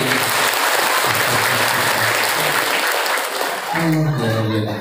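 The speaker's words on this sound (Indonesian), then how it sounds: "tepuk tangan buat Goldi Bibari" Loud, continuous applause from an audience of parents at an Islamic boarding school parenting talk, thick steady clapping filling the space before a voice cuts in near the end.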